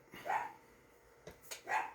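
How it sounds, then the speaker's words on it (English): A small dog barks twice, two short sharp yaps about a second and a half apart, fairly close but quiet in an otherwise still room. "Little dogs bark."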